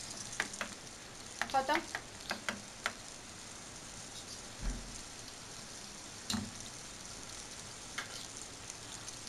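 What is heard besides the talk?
onions frying in a pan for beef kofta curry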